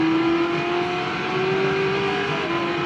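Ford GT40 engine revving in the racing game Gran Turismo 6, a steady, loud, high-pitched engine whine held at high revs without a break, with no talking.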